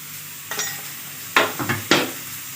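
Ground cumin, coriander, turmeric and red chilli powder stirred into a sizzling butter chicken gravy in a pan, with a few distinct scraping stirs over a low steady fry.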